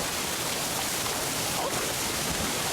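Steady roaring waterfall in the video game Black Myth: Wukong, a dense continuous rush of falling water that stays even and close throughout.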